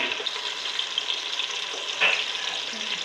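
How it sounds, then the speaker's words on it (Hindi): Chopped onion going into hot oil for a mutton curry gravy, sizzling and crackling steadily at close range with a brief louder hiss partway through, no voices. "तो अभी बस तेल गर्म है, प्याज डालती हूँ मैं।"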